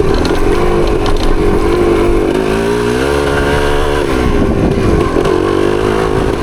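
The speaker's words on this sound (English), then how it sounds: "Even with that little bit of sputtering in the low end, it still doesn't have any issues pulling up these hills." A 1975 Yamaha DT250 two-stroke motorcycle, sputtering slightly at low revs and probably running rich, climbs hills on a trail ride; the engine drones loud and close throughout, its pitch dipping and rising with throttle and load.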